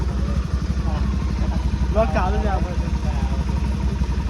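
A motorcycle engine runs close by with a steady low throbbing idle that continues under nearby conversation.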